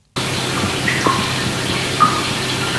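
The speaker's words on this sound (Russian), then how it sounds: "в подвале постоянно лопаются трубы, водопад все время, вода бежит" Water runs steadily from burst pipes in a basement, a continuous hissing rush with a couple of faint drips or knocks, close and fairly loud, with no voices.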